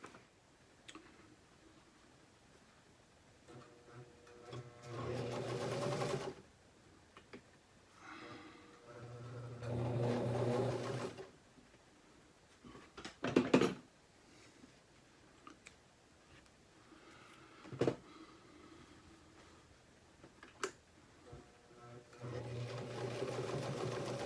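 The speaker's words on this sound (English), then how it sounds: "TZ5 sewing machine" A TZ5 sewing machine stitching Carhartt shorts runs in several bursts of a few seconds each, close and mechanical, separated by quieter pauses with small clicks and handling noises.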